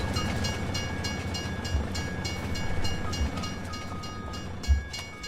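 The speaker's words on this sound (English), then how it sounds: "Train's coming." A train rolls past in Farming Simulator 25 with a steady, loud rumble and a few rhythmic clacks and thuds.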